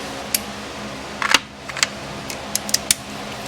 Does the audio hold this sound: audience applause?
no